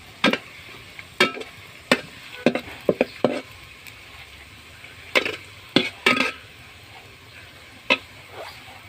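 Chopped garlic and other food are stirred in a pan until browned, with irregular sharp taps and scrapes of a utensil against the pan over a faint sizzle, close and with no one talking.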